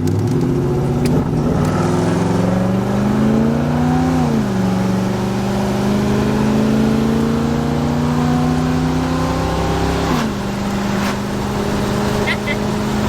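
A car engine runs loudly and steadily nearby, its pitch rising and falling with a couple of brief revs along the way.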